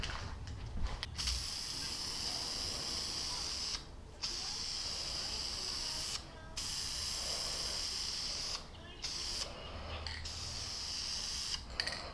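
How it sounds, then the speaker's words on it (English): An aerosol can lays a first black coat of paint on a Magna bobber motorcycle part in repeated hissing bursts separated by short pauses. "I'll get ready to lay the first layer of paint of black on this"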